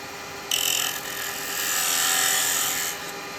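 A carbide chisel cleans up the front face of a piece of wood spinning on a lathe, a steady whirring hum beneath a brighter scraping cut that starts abruptly, swells, then fades, close and fairly loud.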